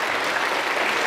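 Church congregation clapping, a dense, even wash of applause from many hands that fills the whole short moment without any voices.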